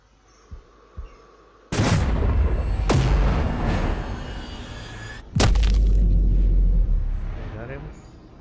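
Explosions in the video game Sniper Ghost Warrior 3: two loud, sharp blasts a few seconds apart, each followed by a long rumbling roar, with a short crack in between.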